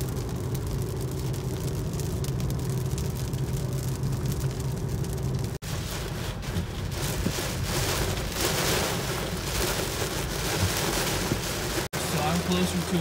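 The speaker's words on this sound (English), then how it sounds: "It's freaking raining so hard right now." Heavy rain drums on a 2018 Honda Civic Hatchback with ceramic-coated windows as it drives at about 66 mph, a loud, continuous roar of water and road noise broken by two brief dropouts.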